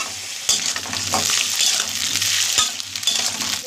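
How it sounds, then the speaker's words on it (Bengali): Potatoes and tomato fry and crackle in a pan, a steady close sizzle with a few sharp spoon-against-pan knocks as the mixture is stirred. "আলুটাকে আবার একটু ভাজি"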